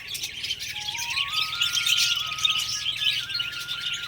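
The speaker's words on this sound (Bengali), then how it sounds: "এখানে এই পাখিগুলো লাভবার্ড।" Dense, bright chirping from a flock of lovebirds at a plant nursery, continuous and lively, with one thin rising whistle-like tone running through it.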